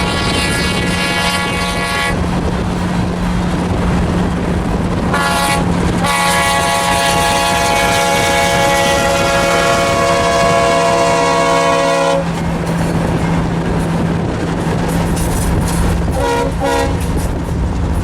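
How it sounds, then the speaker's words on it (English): A train rolls past nearby, loud, with its horn blowing in long sustained blasts. The horn breaks off briefly, then sounds again, over a steady rumble and clatter of wheels on rail. "Pacing the train, pacing the train, Jonah."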